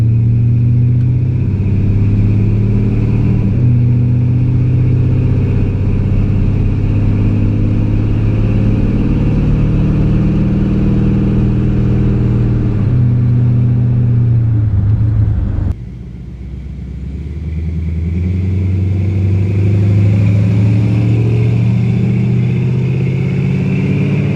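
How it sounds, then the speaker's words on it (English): Car fitted with Flowmaster mufflers pulling away in a normal takeoff: a loud, close, steady exhaust drone that builds through the gears, with brief dips at the shifts and no talking. "we're going to do a nice, just normal takeoff with the Flowmasters."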